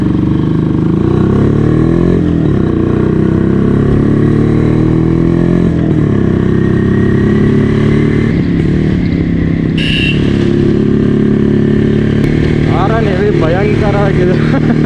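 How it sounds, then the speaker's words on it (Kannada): A vintage Yezdi motorcycle engine runs loudly and steadily throughout, with a dense low thumping drone and rattling clatter, while a rider talks over it. "ಸೌಂಡ್ ಜಾಸ್ತಿ ಇದೆ ಗಾಡಿದು"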